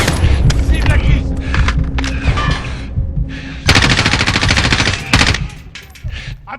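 Dense bursts of rapid machine gun fire and explosions in the Call of Duty Modern Warfare video game, with heavier sustained firing in the middle, while voices shout over the battle.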